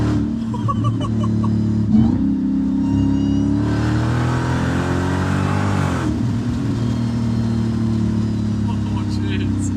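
A Dodge Hellcat engine roars and revs hard and close, its pitch rising while the tires spin on rollers, with a steady loud drone throughout and people talking over it.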